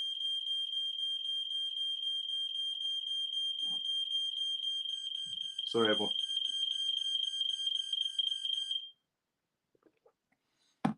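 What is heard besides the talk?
fire alarm being tested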